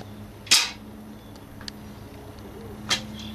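Toy gun firing two sharp snapping pops about two seconds apart, moderately loud against a quiet room hum, with a faint tick between them.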